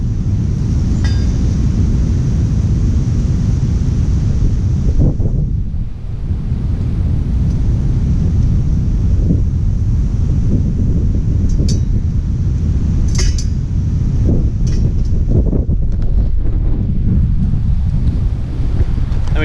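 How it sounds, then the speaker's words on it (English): Strong outdoor wind buffets the microphone with a loud, continuous low rumble, with a few faint clinks now and then. "It's a bit windy, so I've got to be careful."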